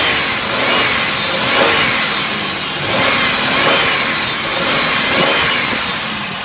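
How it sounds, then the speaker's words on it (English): A 2002 Buick Century with a 3.1 engine, about 125,000 miles on it, runs up close on a wrecking-yard test, its steady hum rising and falling through several gentle revs with no talk over it. "Very smooth, good running engine."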